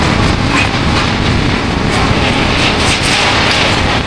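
The Paharia Express runs at speed, a dense, steady roar of wheels and rushing air that holds constant and loud throughout, heard from on board, with no talk.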